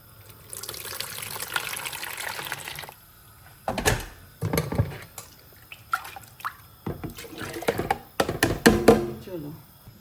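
Water poured into a pot of cooking lentils on a home stove, a short trickling pour near the start followed by clinks and handling noises, with someone talking over parts of it.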